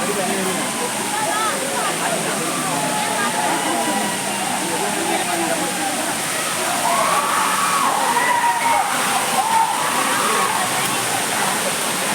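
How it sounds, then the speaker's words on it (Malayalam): Churuli waterfall, a small forest fall seen in the dry season, pours with a loud, unbroken rushing roar across the whole stretch while a voice speaks over it. "ഈ കാണുന്നതാണ് ചുരുളി വാട്ടർഫാൾ."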